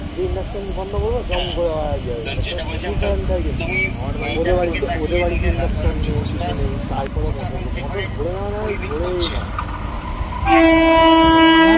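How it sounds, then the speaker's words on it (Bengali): A train rumbles past very close, steady and loud, while someone talks over it; near the end a loud horn blares and drowns everything out. "আমার পুরো গা ঘেঁষে ট্রেনটা বেরিয়ে যাবে, পুরো চাকার পাশে আমি"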